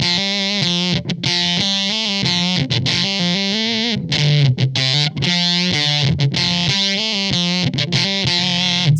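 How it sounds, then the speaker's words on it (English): Electric guitar through a Jext Telez Canyon Climber fuzz pedal, a loud, buzzy distorted tone playing rhythmic chord stabs with brief gaps between phrases, heard alone without talk. "I start the song with this really unique fuzz tone that was used on the record, and that's this fuzz pedal back here."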